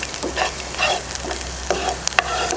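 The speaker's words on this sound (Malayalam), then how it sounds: "ഇതേ സമയം തന്നെ നമുക്കിതിലോട്ട് അണ്ടിപ്പരിപ്പും കറിവേപ്പിലും കൂടി ആഡ് ചെയ്യാം ഇതെല്ലാം നന്നായിട്ടൊന്ന് വറുത്തെടുക്കാം" Steady sizzling of cashews and curry leaves frying in ghee, with occasional crackles and pops and a few light stirring scrapes, close and continuous.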